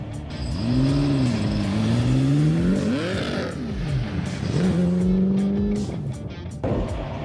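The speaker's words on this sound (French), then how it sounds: "On va pouvoir, au démarrage, pousser un peu plus en régime." Ford GT40 engine revving to higher RPM during a full overhaul, a loud, close, rising and falling engine whine that sweeps up and down through several rev cycles, with no talking.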